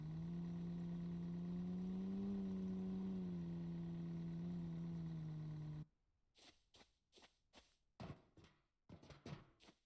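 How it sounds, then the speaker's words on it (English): A truck engine in the zombie survival game No One Survived hums steadily and loud as it drives, then cuts out, leaving faint scattered clicks and rustles in near silence. "Pull the truck up a little bit closer."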